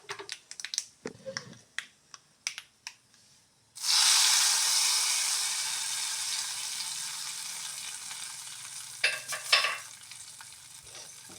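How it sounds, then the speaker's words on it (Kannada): Mustard seeds tempering in hot oil for a jackfruit-bulb mustard curry, with onion added: scattered sharp crackles and pops at first, then a loud steady sizzle that slowly fades, with a few more pops near the end. "ಒಗ್ಗರಣೆ ಚಿಟ ಅಂತ ಇದೆ"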